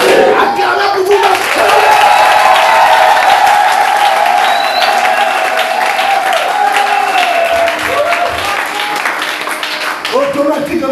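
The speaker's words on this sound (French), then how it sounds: "Acclamez pour vous-même" A church congregation applauds and cries out together in a loud, sustained wave of clapping and shouting that fills the room, easing slightly toward the end.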